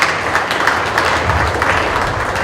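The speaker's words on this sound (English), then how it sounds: "let's give them all a round of applause here today" Dense, steady applause from a crowd at a livestock show ring, honoring heifer exhibitors at the 2015 Western Spring National Show; a sustained wash of many hands clapping fairly close.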